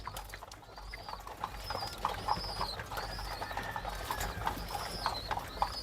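Pigeons coo in repeated soft, throaty phrases close by, with light shuffling and fluttering sounds underneath.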